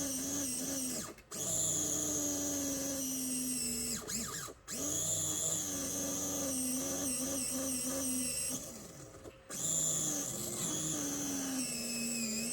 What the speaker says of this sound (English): I'm just going to give the side of the tyres a bit of a run with the sandpaper.